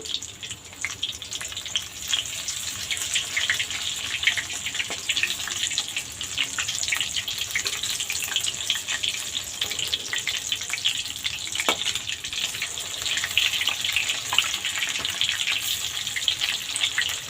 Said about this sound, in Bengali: এইভাবে আর এক ভেজে নেব